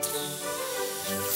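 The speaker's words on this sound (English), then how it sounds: "Better spray some Lysol." A Lysol To Go disinfectant aerosol sprays in one continuous, close, steady hiss lasting just over a second.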